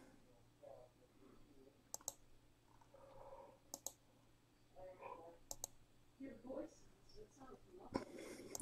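Several sharp computer-mouse clicks spaced through the moment while a sports card division break is randomized, each a crisp brief tap in a quiet room, with someone talking softly in between.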